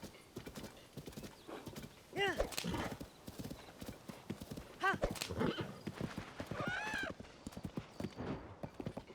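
A video game horse's hooves clip-clop in a steady trotting rhythm, with two whinnying neighs standing out. A player talks over it throughout.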